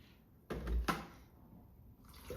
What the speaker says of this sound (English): And we're pouring in our second pint.